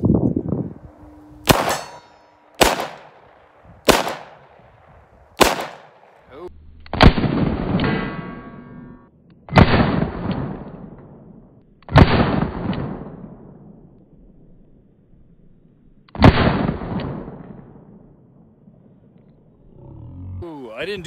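A Ruger LCR .357 Magnum revolver fires Remington +P semi-jacketed hollow point rounds: about eight loud, booming shots at irregular intervals, each with a ringing decay, the last few more widely spaced.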